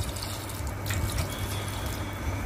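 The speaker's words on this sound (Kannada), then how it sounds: "ಇನ್ನೊಂದು ಸ್ವಲ್ಪ ನೀರು ಹಾಕ್ತಾ ಇದ್ದೀನಿ ಇದಕ್ಕೆ" Water poured into a pot of bottle gourd sambar, a steady close splashing and trickling stream running without pause for a couple of seconds.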